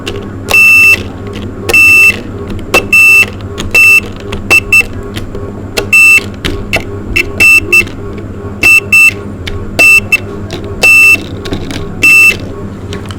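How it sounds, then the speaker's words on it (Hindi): A buzzer on a DC circuit-breaker test setup sounds in repeated loud, high-pitched beeps of uneven length after the breakers are switched on, over a steady low hum, with no talking. "बजर की आवाज़ आनी चाहिए"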